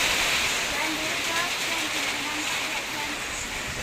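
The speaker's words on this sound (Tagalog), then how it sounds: "lakas ang hangin sa amin guys." Strong wind roaring through coconut trees during a storm with easing rain, a steady, loud broadband rush with no breaks, close to the recorder.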